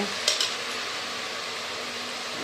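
Ingredients for ration-rice chicken biryani sauté in a pan with a steady, moderate sizzle, and a couple of quick utensil clinks come early on.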